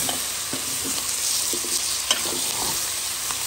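Lamb masala chops sizzle steadily in a hot pan while a spoon stirs and scrapes the crust from the bottom, with soft clinks and scrapes over the continuous frying hiss.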